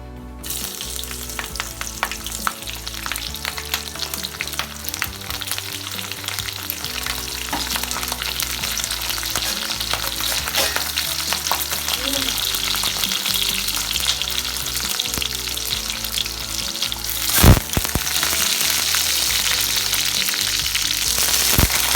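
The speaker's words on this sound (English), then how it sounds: "Now you can see that our green chilies are frying." Oil sizzles and crackles steadily as green chilies fry in hot oil, with scattered pops and a brief louder spatter near the end.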